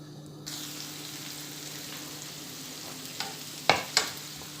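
Chopped onion fries in a pot with a steady low sizzle, and a spoon stirs it, giving a few sharp scrapes and knocks against the metal near the end.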